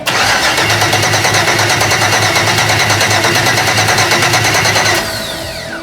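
Old drag boat with an LS-swapped V8 cranking over, a fast rhythmic starter churn lasting about five seconds, loud and close, then fading into a brief whirring run-down without the engine catching cleanly.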